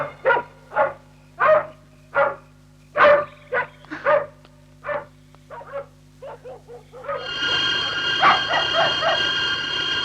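A dog barks in a run of sharp, spaced barks that quicken into a cluster, clear and fairly close, then a steady rumbling hum takes over.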